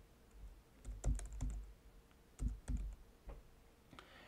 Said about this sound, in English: I'm going to type in section profile